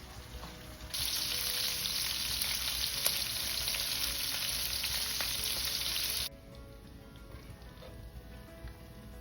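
Sausage browning in a frying pan for spaghetti, a continuous bright sizzle that switches on abruptly, holds steady for several seconds, then drops back to a quieter background crackle.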